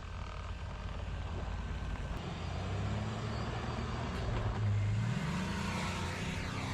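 Ford Explorer SUV driving on frozen sand, a steady low engine rumble and tire roar that builds slightly louder midway, with no one speaking.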